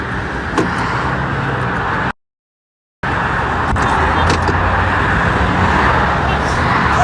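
A truck rolls into a house yard, its engine a steady broad rumble with road noise throughout, briefly cut by a short gap of silence before the drone resumes.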